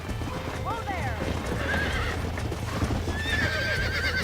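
Horses in the Western video game Red Dead Redemption clip-clop steadily throughout, with whinnies and neighs rising over the hoofbeats and people talking at the same time.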